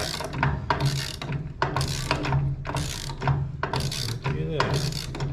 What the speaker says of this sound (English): as we tighten up the bolt on this nut here, on the skinny nut that I put on, that'll tighten the chain up with a bolt slack